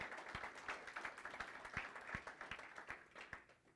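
A church congregation claps at a sermon, a faint, distant patter of group applause in a worship hall with a few sharper individual claps standing out.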